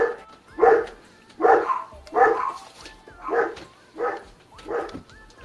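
Dogs barking in a home, six or seven sharp, close barks at a steady rhythm with short gaps between them and faint background noise.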